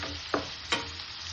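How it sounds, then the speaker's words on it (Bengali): Sliced onions fry in hot oil with a pinch of salt, a soft continuous sizzle broken by two quick scraping stirs of a spoon in the pan. "পেঁয়াজটা তাড়াতাড়ি কালার আসার জন্য এর মধ্যে অল্প নুন দিয়ে দিচ্ছি"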